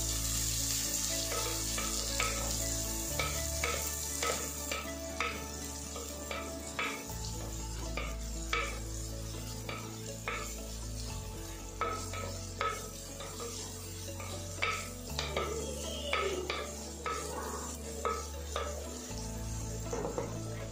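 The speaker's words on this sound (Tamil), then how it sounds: "ஒரு 10 பல் பூண்டுங்க, அதையும் வந்து சின்னதாக ஸ்லைஸ் பண்ணி அதோட ஆட் பண்ணிக்கோங்க." Shallots, sliced garlic and green chillies sauté in a hot pan for a Pondicherry-style fish curry, with a steady sizzle, repeated stirring scrapes and spoon knocks, close and continuous with no talking.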